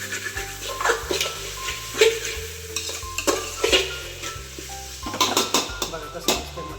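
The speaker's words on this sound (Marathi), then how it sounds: "सारखं सारखं फ्राय करत राहायचं." Masala with garlic and ginger is stirred and fried in a pan, with irregular scraping and clinking spatula strokes over a soft sizzle and a low background hum.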